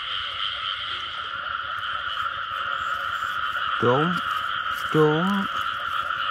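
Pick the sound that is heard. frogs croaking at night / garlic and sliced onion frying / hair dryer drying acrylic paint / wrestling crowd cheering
frogs croaking at night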